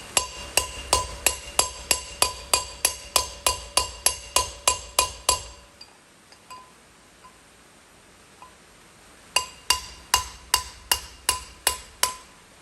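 A hammer strikes a brass drift to drive out a wheel bearing race from the brake drum of a GMC motorhome rear wheel, a fast run of ringing metallic blows, a pause, then another quick series.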